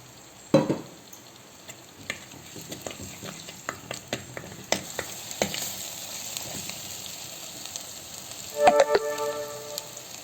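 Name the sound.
frying ingredients in oil for tamarind fish curry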